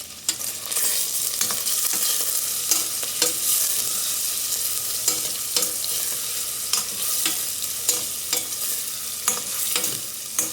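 Frying for a tomato paneer pulao sizzles steadily in a pan, broken by frequent scraping clicks of a spoon stirring, close and moderately loud, with no talking.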